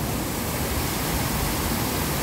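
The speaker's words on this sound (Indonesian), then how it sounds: "Bukan air terjun asli, tapi melainkan air terjun buatan." An artificial waterfall in Tsuen Wan Park gives a steady, dense roar of falling water over natural rocks, close and continuous with no other sounds.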